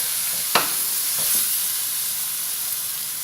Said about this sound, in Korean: 마늘 넣고 볶다 보면은 금방 익습니다